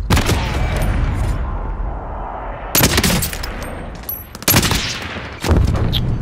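Incoming gunfire striking the player in Warzone, heard as sharp bursts of automatic fire separated by short lulls, loud and close, with about four distinct volleys and no talking.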